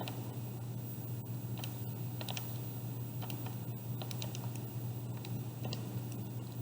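Quick, irregular clicks of calculator keys being tapped over a steady low hum.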